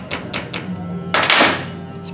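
A hammer peens an anti-squeal shim on a brake pad from a 2005 Saturn Ion: three light, quick taps, then one heavier metallic strike that rings briefly, up close and alone.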